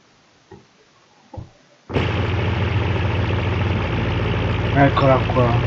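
In the BeamNG.drive video game, after a few faint sounds, a 2.5-litre V8 car engine starts abruptly and settles into a loud, steady rumbling idle, with a voice briefly speaking near the end.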